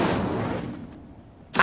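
Spell effect from a Harry Potter video game as the Incendio fire charm is cast: a loud burst that decays over about a second into quiet with a thin lingering tone, then another sharp onset at the end.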